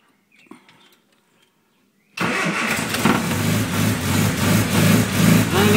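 A 1967 Mini Moke's engine, choked, fires for the first time after a couple of seconds of faint handling noises, then settles into a loud, close, steady running idle with slight rises in revs.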